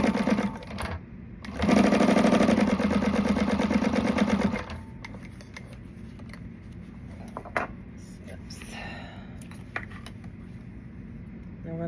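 A sewing machine runs in a steady loud burst for about three seconds while stitching a bottom piece, then stops, followed by quieter handling clicks and light movement.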